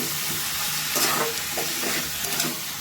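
Vegetable filling for Bengali-style vegetable chops being mixed in a pan, a continuous moderate sizzle with a handful of spatula scrapes and soft knocks, close by and without talk.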